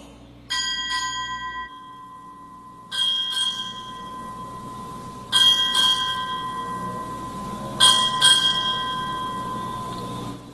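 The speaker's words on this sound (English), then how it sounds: "Time release, strike 8 bells." A ship's bell strikes eight bells at a US Navy change of command ceremony, four paired clangs with pauses between, loud and ringing with long decay, no talk.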